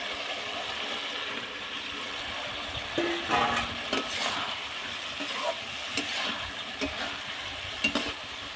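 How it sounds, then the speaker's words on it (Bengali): Pointed gourd frying in hot oil in a pan, a steady sizzle running throughout with intermittent scraping and clinks of a spatula stirring against the metal. "পটল ভেজে নিচ্ছি"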